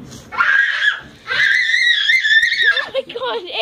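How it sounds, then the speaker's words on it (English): A child shrieks loudly in long, high-pitched bursts, with a brief break between screams and a trailing whine at the end. "Quit yelling. He's screaming."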